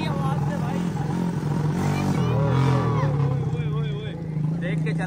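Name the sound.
motorbike engine revving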